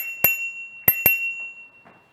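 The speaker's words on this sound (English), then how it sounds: "Has a nice little bell." A small bell on an Apollo City electric scooter rings three times up close: one bright ping, a pause, then two quick pings that ring out and fade, with no talking.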